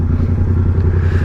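A Yamaha R7 motorcycle fitted with a cheap aftermarket exhaust runs with a steady, throaty engine rumble, close and fairly loud, with no talking.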